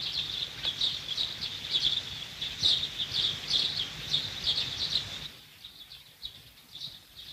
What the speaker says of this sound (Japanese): スズメたちがうるさく朝を告げる